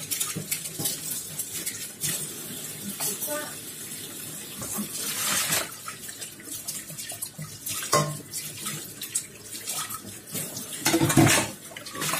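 Tap water runs steadily into a kitchen sink during dishwashing, a broad continuous hiss with occasional clinks of dishes and cutlery, heard close by with some talk mixed in.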